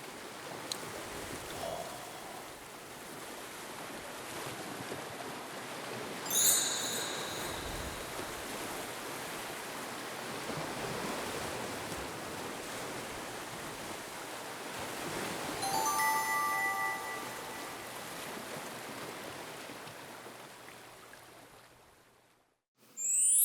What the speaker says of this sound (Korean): 가만히 들어보면요 파도 소리 다 들려